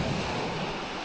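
Lake waves breaking on the shore of South Manitou Island, a steady close wash of surf mixed with wind rush.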